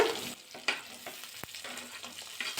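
Potato pieces hit hot oil with fried onions and green chillies in a pan, a soft sizzle under brief stirring scrapes and small taps, close and fairly quiet.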